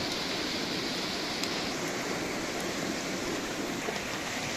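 Rain falls steadily on a forest campsite in the Kestel woods of Konya, a soft, even hiss that stays faint and continuous throughout, with no voices.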